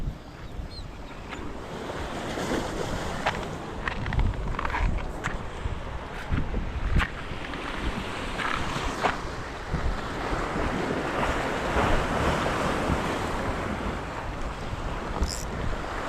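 Strong amihan wind buffeting a microphone on the shore while casting, with steady surf washing underneath, a continuous loud rush with gusty swells throughout.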